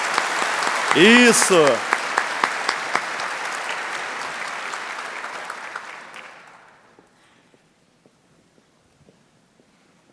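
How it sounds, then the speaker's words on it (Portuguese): A church congregation claps after a Mass reading, loud sustained applause with a voice calling out briefly early on, the clapping thinning and fading away into near silence with scattered last claps. "As nossas palmas para a palavra de Deus."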